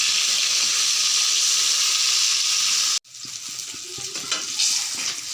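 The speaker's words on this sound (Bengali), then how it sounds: "লাল লাল করে ভেজে নিলাম।" Pieces of rui fish fry in hot oil with a steady, loud sizzle, briefly cut off partway through, then resume with crackling spatters and occasional stirring clatter.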